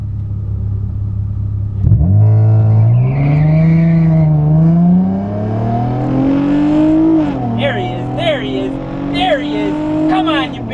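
Oldsmobile 442 with around 500 horsepower doing a burnout at a track day, a loud rumbling V8 revving up and holding with squealing, skidding tires, close and powerful, with voices speaking over it.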